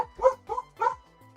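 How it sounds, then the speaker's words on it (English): Dogs bark at a delivery driver at the door: three clear, close woofs in quick succession, followed by a short pause. "What are we barking at?"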